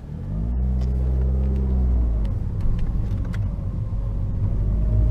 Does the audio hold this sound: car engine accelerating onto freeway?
yes